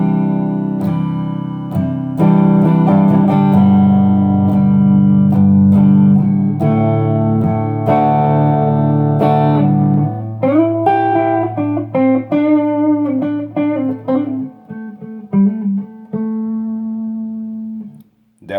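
A Gibson 2017 Les Paul Standard HP electric guitar on its neck pickup in humbucking mode, strummed chords and picked notes ringing loud and close with sustain, then choppier single notes toward the end.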